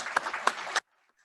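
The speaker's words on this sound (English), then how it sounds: "So round of applause for all of you being here and showing up today." Luncheon audience giving a round of applause, a short burst of scattered clapping from a room of people that stops abruptly after under a second, fairly faint.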